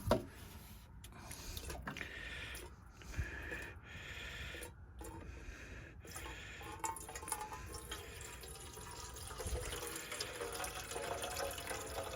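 Water pours and splashes into a kettle at a camp beside a Naturehike Dune 7.6 tent, a steady liquid trickle with some faint clattering, fairly quiet and close.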